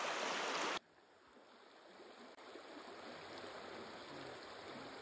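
A small mountain river flows steadily as a continuous broadband rush of water, loud and close, with a brief louder splash-like burst at the very start.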